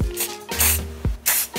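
Short bursts of gold spray paint hiss onto a pumpkin indoors, three separate close sprays with brief pauses between them.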